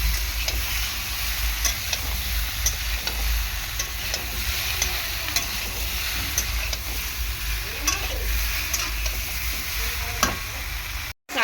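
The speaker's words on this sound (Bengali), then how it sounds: "কাঁচা লঙ্কা দিয়ে দিচ্ছি কয়েকটা, দিয়ে ভালো করে কষিয়ে নেব।" Green chillies frying in a pan for a small-fish curry with raw banana and potato, a loud continuous sizzle broken by regular clicks and scrapes of stirring, close and without talk.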